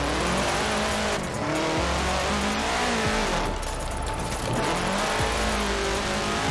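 A 1000 hp BMW M3 E46 drifts in the racing game Forza Horizon 4, its engine revving hard and continuously with shifting pitch and tire noise, loud and up front, without speech.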